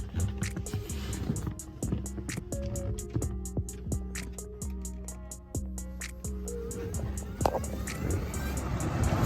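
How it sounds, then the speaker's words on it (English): A car A/C blower fan runs with a steady motor drone, its unbalanced wheel shaking and knocking against the housing in a fast, regular ticking that persists throughout, close and fairly loud. "the blower fan works, but when it moves around, you can see it's shaking a lot"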